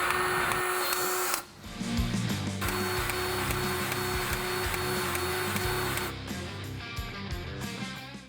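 A grease gun works the fittings on a heavy-duty wrecker's recovery boom saddle, giving a loud, steady mechanical whir with a brief dip early on, close by and with no talking.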